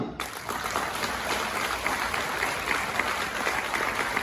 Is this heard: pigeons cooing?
no